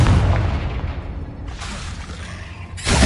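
A Confringo spell explosion in the Hogwarts Legacy video game: a heavy, booming blast with a rushing roar that holds for about a second, then further loud bursts follow in quick succession.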